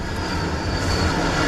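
A freight train on the Santa Fe main line in Seligman, Arizona rumbles past as a dense, steady roar, fairly loud and unbroken, with no voices.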